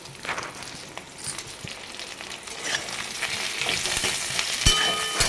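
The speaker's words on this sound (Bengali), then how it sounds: "এই দেখো তেল গরম করে নিয়েছি আর এই করলাটাকে দিয়ে দিচ্ছি" Bitter gourd pieces, rubbed with a little lemon, fry in hot oil with a close, continuous sizzle that builds as they settle in, with a few scrapes and taps of a spatula.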